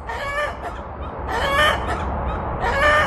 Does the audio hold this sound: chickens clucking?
yes